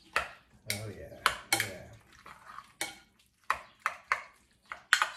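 Angel hair pasta stirred with tomatoes and Brie in a pot, giving repeated close scraping and clinking strokes in an irregular rhythm, with a brief casual voice early on.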